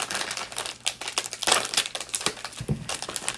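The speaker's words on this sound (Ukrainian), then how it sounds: "Воно не відкрилося до кінця, блін, да що з цими пакетами не так сьогодні." Close crinkling and crushing of plastic packaging from an Amazon and iHerb shopping haul as a stubborn bag is pulled open, with irregular sharp rustles and crackles and no talking.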